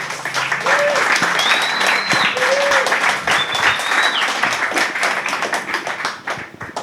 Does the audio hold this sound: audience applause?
yes